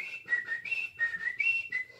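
A person whistles a cheerful tune while walking, in clear high notes broken into short phrases with brief gaps, close and alone.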